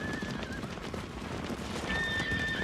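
Horses neighing and whinnying in a farmyard, shrill drawn-out calls rising over a restless background with hooves shuffling and clopping nearby.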